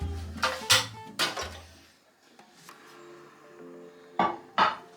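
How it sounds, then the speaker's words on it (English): An oven dish is picked up and set down in a home kitchen while pork loin is prepared, a few close, sharp clinks and knocks with quiet pauses between them. "Oven dish."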